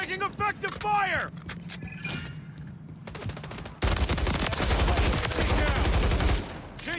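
Automatic gunfire in a Call of Duty: Modern Warfare 3 Kill Confirmed match, with scattered shots and clinks, then a sustained loud burst of rapid fire that runs for several seconds before cutting off, along with voice lines.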